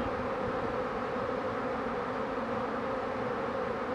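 A honeybee swarm re-forms in a dense, steady hum of many wings that stays even and unbroken, close and moderately loud.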